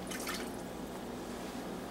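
Water splashes into a pan of melted toffee ingredients in a brief pour, followed by a soft, steady liquid hiss. It is close and quiet.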